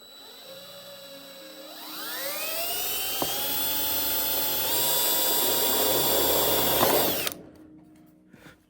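A power drill boring a pilot hole whines close and loud, its pitch climbing as it spins up, holding steady for several seconds, then cutting off abruptly into quiet handling sounds.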